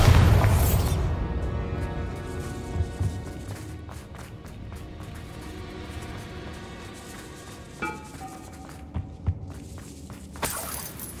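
A Bombarda spell in the Hogwarts Legacy game sets off a loud, close burst at the start, then fades into a quieter stretch broken by several sharp thuds, pops and cracks of debris and impacts.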